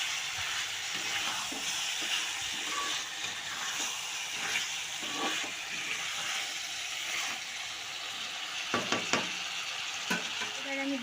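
Fried vegetables tossed with spices in a pan for a cauliflower and potato curry give a steady close sizzle throughout, with intermittent scraping stirs and a few sharper clatters near the end.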